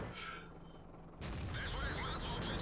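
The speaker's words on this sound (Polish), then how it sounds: "Dobra, strzał jest, ale bez damage'a." Tank cannon fire in the World of Tanks video game, a sudden loud blast cutting in midway and leaving a dense, sustained rumble with crackling debris behind it.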